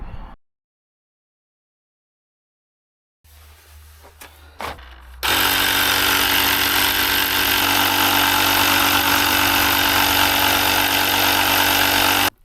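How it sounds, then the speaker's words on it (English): A loud, steady mechanical hum and hiss starts abruptly after a few quiet seconds and runs continuously as air is pumped into a large tractor tyre. "Need to put some air in it."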